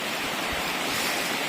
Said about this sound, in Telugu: ఇలా వాటర్ పారుతుంది కదా